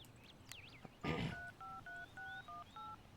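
Cell phone keypad tones in the video game Everlasting Summer: a rapid run of six or seven short, clean dialing beeps in an even rhythm, following a brief burst of noise, fairly quiet and with no talk.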